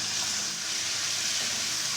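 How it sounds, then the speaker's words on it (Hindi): Garlic frying in a pan for vegetable fried rice gives a steady, even hiss of sizzling oil throughout, close and continuous, with no voices. "लहसुन डालेंगे सबसे पहले, इसको पकाएंगे हल्का सा"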